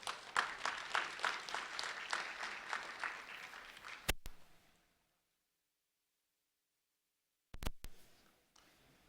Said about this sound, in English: a round of applause for Jeremiah Downer